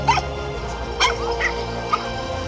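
Pitbulls attacking a python give a few short barks and yips, with one sharp bark at the start and others spaced about a second apart, over steady background noise.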